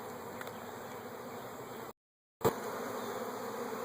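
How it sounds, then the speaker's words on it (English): Dense, continuous buzzing of many bees at a beehive, a steady close hum briefly cut off for a split second and then resuming, with no talk. "we have a lot more bees than last week"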